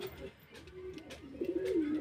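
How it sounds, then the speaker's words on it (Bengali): A male Giribaz pigeon coos nearby in a soft, rising and falling phrase, growing fuller toward the end, with light rustling and clicks around it. "তো এটা নর পায়রা আছে।"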